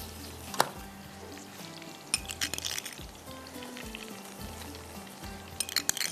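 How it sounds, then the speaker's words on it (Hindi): Hot oil tempering crackles and sizzles over makki ki roti, with a few soft clinks and stirring sounds, moderately quiet and close. "चले जी, तड़का जा रहा है इसके ऊपर"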